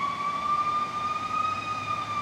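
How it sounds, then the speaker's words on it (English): A fire engine siren wails steadily at moderate distance, a sustained high electronic tone with faint traffic rumble beneath, heard outdoors during lawn tractor repair work. "let's wait for this fire engine to go by"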